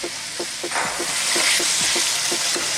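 Sweet potato pieces frying in hot oil for a rice dish, a strong close sizzle punctuated by rhythmic scraping knocks of stirring, repeating about every quarter second.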